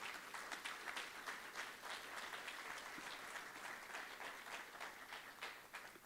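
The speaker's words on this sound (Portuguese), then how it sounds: "Vamos dar uma salva de palmas se você" A church congregation gives a round of applause, many hands clapping steadily and evenly at a moderate distance, with no voices standing out.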